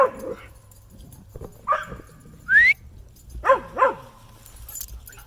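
Excited high-energy pack dogs giving short barks, yips and a high whimper, scattered across a few seconds against a quiet room background.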